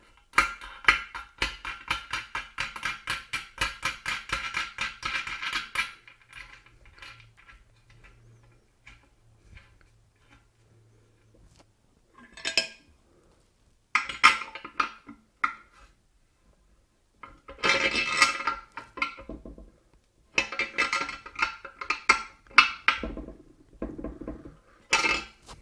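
Small metal parts clatter as a metal washer and nut go onto a toilet tank bolt: bursts of close, bright clinking and scraping, then a quiet stretch, then more jingling handling in uneven spurts, with no one talking.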